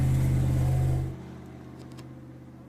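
A powerful formula off-road competition vehicle at the Greifatorfæran event in Iceland roars loudly and steadily for about a second, then its engine drops to a quieter, lower rumble that continues to the end.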